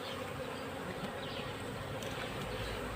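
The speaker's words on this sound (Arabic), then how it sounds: "النحل الخفيف هو اللي داخل على الخلية بتاعتنا اهي دلوقتي اهو بيطير حواليها اهو" Bees circle a hive in a steady, dense buzz that never lets up, close and continuous, with no voices over it.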